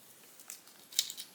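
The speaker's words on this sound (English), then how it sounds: "I'm going to carefully peel this up." Layered paper being carefully peeled up from a handmade Valentine's card, heard as faint, close crackles and soft tearing ticks in otherwise quiet surroundings.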